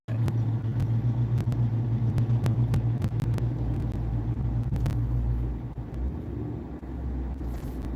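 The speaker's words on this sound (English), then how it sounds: "It looks like a car just pulled out" Car pulling out of a parking space under an overhang, a steady low engine rumble with scattered sharp clicks and knocks, fairly loud and near, easing off toward the end.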